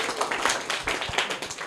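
A roomful of schoolchildren gives a short, brisk round of applause for a student who answered a quiz question correctly, many hands clapping together in a dense, even patter.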